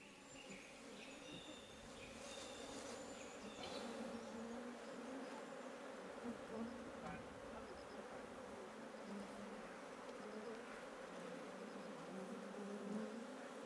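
Honeybees buzz steadily across a rapeseed flower field, a dense, faint, continuous hum of many insects with no voices.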